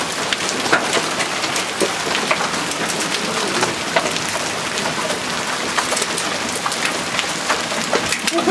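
Hail from a May thunderstorm pelts the ground and nearby surfaces in a dense, continuous rattle of sharp hits, loud and close, with no voices.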